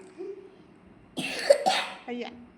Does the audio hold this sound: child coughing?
yes